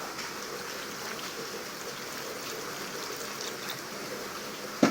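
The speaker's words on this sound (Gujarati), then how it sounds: "હવે કારેલાને ધોઈ નાખશું." Bitter gourd is rinsed in water, making a steady, fairly faint trickling and sloshing wash, with a brief knock right at the end.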